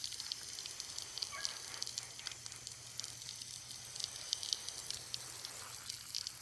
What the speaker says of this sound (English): And now I'm just going to water them in gently.